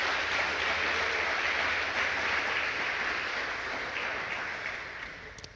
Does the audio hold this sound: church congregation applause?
yes